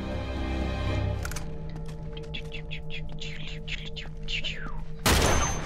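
Gunfire from a sniper rifle in the video game Uncharted 2: Among Thieves, a few sharp cracks over steady game music and ambience, with bird-like chirps in the middle and a loud burst near the end.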